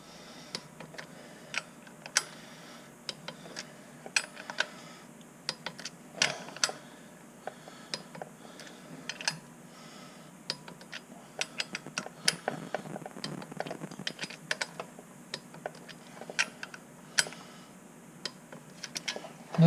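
Ratchet torque wrench tightening flywheel bolts on a Honda Civic Si, a rapid series of sharp, close clicks in irregular bursts across the whole stretch, with no talk.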